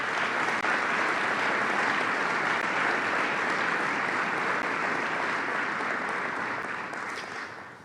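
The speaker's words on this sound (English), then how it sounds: "Please give these folks a round of applause" Sustained, dense applause from a large audience at a city State of the City address rolls on steadily for several seconds before tapering off at the end, with no voices above it.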